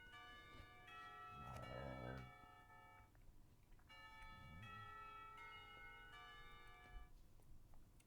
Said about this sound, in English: The bells hurtling the end of school make me jump in my seat.